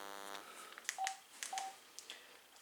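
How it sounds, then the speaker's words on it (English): Keypad tones beep on an AT&T CL82301 cordless phone handset, a few short separate presses after a brief steady tone, heard close and fairly quiet in a silent room. "Can you hear the dial tone perfectly?"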